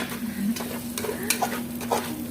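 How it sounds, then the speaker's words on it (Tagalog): Two eggs being stirred in a frying pan with chaofan rice, a continuous sizzle broken by several scraping, clattering stirs of a utensil against the pan, close and fairly loud. "Paghalu-haluin hanggang ma-mix"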